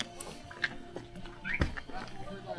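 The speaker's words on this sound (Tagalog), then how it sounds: "May kabayo." A horse near a lakeside road on the way to Kolsai Lake in Kazakhstan, a few scattered hoof knocks amid background noise, with voices in the area.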